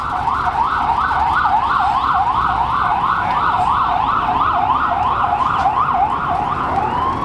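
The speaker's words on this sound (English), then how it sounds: "Let this ambulance pass." An ambulance siren wails loudly and steadily up and down, close by, over a low rumble of road traffic, with no voices.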